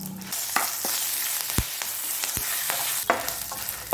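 Kashmiri chillies and two sprigs of curry leaves sauté in hot oil in a pan, giving a dense, close crackling sizzle broken by several sharp spatula scrapes and knocks against the pan, with no speech.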